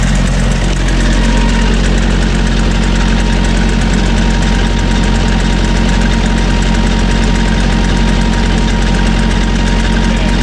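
A reefer trailer refrigeration unit runs at low speed, cooling toward -20, with a loud, steady diesel-like drone and rhythmic knocking throb throughout, close and unbroken.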